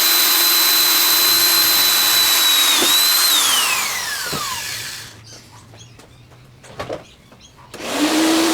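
A high-pitched power drill whines steadily, its pitch sliding down as it bites through welded steel, then stops, leaving faint clicks before it spins up again.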